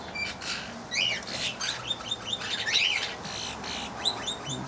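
Birds chirp and tweet busily in a pheasant aviary that also holds cockatiels: many overlapping high calls in quick, irregular bursts at moderate distance, with a soft steady background and no talking.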